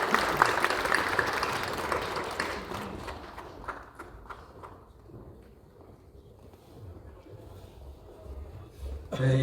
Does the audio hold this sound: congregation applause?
yes